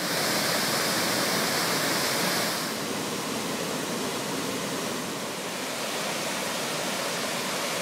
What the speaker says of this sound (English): This is Salto Princesa from above a little bit, so you can kind of see how the river flows and then runs down into the falls.